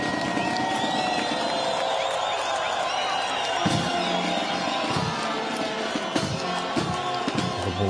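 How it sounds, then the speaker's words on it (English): Crowd applause at an outdoor flag raising ceremony on Independence Hill by the National Parliament, a steady wash of clapping and murmuring voices with a few louder thuds and bursts near the end. "Applause from the crowd"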